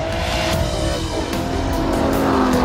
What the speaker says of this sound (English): the first thing you notice obviously is that gorgeous V12 engine